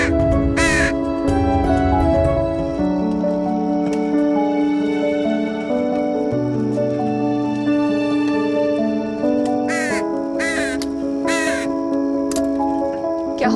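A crow caws in a few harsh, short bursts, a pair early and a cluster near the end, over a continuous backdrop of sustained tonal music from a Mahabharata drama.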